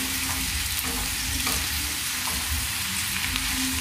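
Onions and tomatoes fry in a pan with a dense, continuous sizzle, close and loud, with faint stirring scrapes underneath and no talking.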